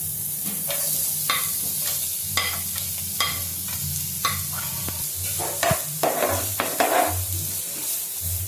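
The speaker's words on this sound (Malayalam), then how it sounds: "ഇനി ഇതിലേക്ക് നമുക്ക് അരിഞ്ഞു വെച്ച ഉള്ളി ഇട്ട് കൊടുക്കാം." Chopped onion fries in hot oil while being stirred, giving a constant close sizzle. Irregular scraping and stirring strokes sit on top of the sizzle, with a low hum in the background and no talking.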